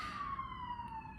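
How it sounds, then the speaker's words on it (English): An emergency vehicle siren wails faintly in the distance, a steady, slowly falling tone held throughout a brief moment with no speech over it. "I'm sorry for the sirens."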